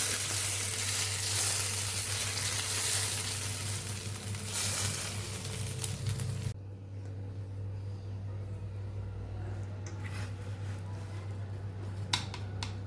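Hot tempering with mustard seeds, cumin, curry leaves and white sesame poured over roti dhokla sets off a loud steady sizzle that cuts off abruptly, leaving a faint hiss and a few small clinks.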